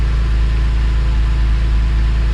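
A Porsche 996 Cabriolet idles with the top down, a loud, steady, close-up engine drone with a deep low rumble, holding constant throughout with no talk.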